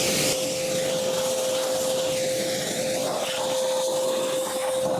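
A pressure washer rinses something, a steady loud broadband hiss with a constant whine running alone through the whole stretch.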